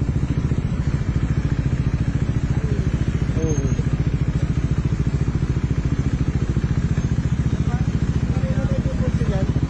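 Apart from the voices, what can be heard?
motorcycle exhaust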